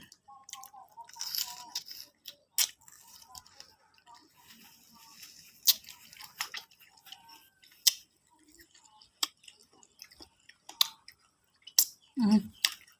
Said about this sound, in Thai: ฟินตรงได้เคี้ยวข้าวคั่วด้วยนี่แหละ